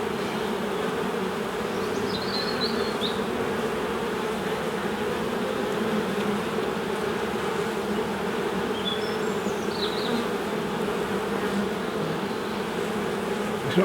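Honey bees drone steadily around an open hive on a calm, windless day, a continuous close buzzing swarm with a few individual bees flying past, no voices.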